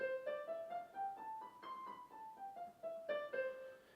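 A slow piano scale where each key is released before the next is struck, giving a steady sequence of about fourteen separate notes stepping up and then back down, soft and clear.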